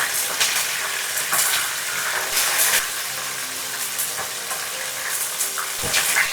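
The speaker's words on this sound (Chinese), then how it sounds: "煎大概5分鐘左右" Chicken wings sear in oil in a pan, giving a continuous loud sizzle with bursts of crackling and occasional stirring scrapes, no voices.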